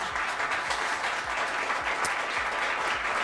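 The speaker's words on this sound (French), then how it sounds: "Je pense qu'on peut les applaudir." A conference audience claps after a morning roundtable session, dense sustained applause from many hands in a room, even and fairly loud throughout.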